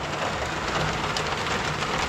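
Rain falls heavily and steadily in a village, a dense continuous hiss of drops pattering on surfaces, loud and close, with no voices.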